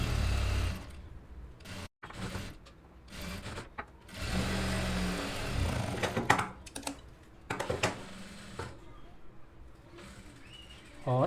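A sewing machine runs in short bursts and longer stretches, stitching the edge seam of a lined suit, close by with rapid mechanical clatter and brief pauses between runs.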